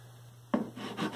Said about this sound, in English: And there's some residual light sanding that's going